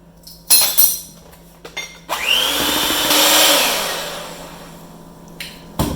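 An electric hand mixer whirs through chocolate cake frosting as powdered sugar is blended in, a loud buzzing run of a few seconds after clinks and taps of utensils against a bowl, close by.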